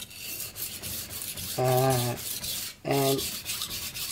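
A knife is stroked on a Suehiro Debado 180 grit whetstone with steady gritty rubbing and scraping. Two brief tonal squeals cut in partway through. One short word is spoken.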